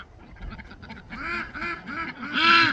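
Pet ducks in a winter pen on a small homestead give a run of loud, nasal quacks, building from scattered calls into repeated close-up quacking.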